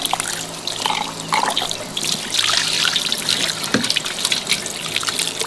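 A Ziploc gallon freezer bag is pushed down into water, giving a close, continuous splashing and gurgling with trickling and small drips, without talk.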